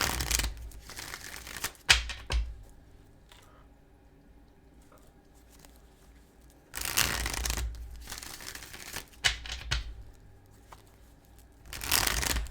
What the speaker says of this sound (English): why am I trying to shuffle this deck?